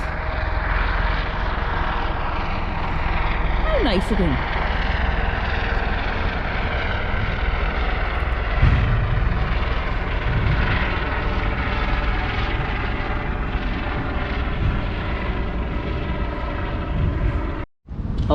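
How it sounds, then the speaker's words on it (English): A helicopter flies over a sunny beach, its rotor and engine drone loud and continuous for the whole stretch, with a brief voice and a gust of wind noise passing beneath it. "Oh, look, there's a helicopter just for us."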